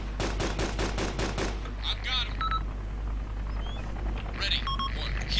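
Rapid bursts of automatic gunfire crack loudly at the start in the Arma 2 military game, followed by scattered distant shots, radio-like beeps and tones, and low voices talking.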